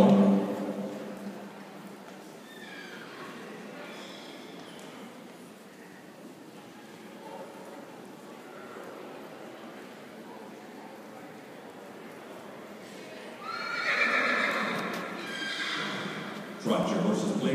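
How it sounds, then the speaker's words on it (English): Horses at a horse show ring whinny loudly near the start and again toward the end, with faint hoof clip-clop between and an announcer's voice calling to exhibitors over the arena. "Trot your horses, please."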